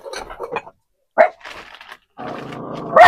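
A dog inside a small house gives a few short, sharp barks close by, broken by brief pauses and a stretch of growly noise.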